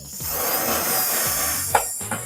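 Parts of a steel work desk are screwed together by hand, a continuous scraping grind of turning hardware with two sharp metallic knocks near the end, close and fairly loud.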